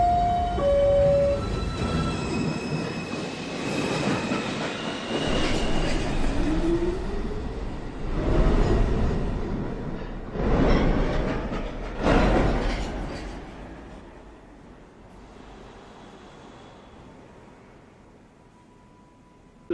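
An NYC Subway 1/2 train moves through Lincoln Center station, a loud rumbling roar with screeching wheel squeals and a brief horn tone, swelling in bursts before fading away.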